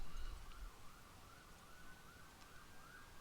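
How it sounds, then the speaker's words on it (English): Distant ambulance sirens near a hospital wail in a slow rising and falling cycle, faint and steady in the background with low rumbling noise. "I apologize for the ambulances in the background."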